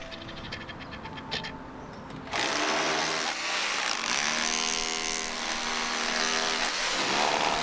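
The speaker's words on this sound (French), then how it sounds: "Ensuite, il ne me reste plus qu'à enlever l'ancien crépi avec le marteau piqueur." A jackhammer chips old exterior render off a wall of aerated concrete blocks, starting with quieter rhythmic rattling and then breaking into a loud, continuous, gritty hammering that runs on steadily to the end.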